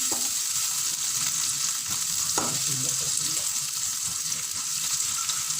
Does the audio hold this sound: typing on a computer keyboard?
no